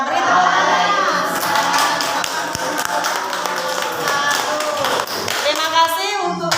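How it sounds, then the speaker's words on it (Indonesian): An audience applauds after a group presentation at a teacher training session in a classroom, with a few seconds of steady, fairly close clapping while voices talk over it. "Ya, beri tepuk tangan."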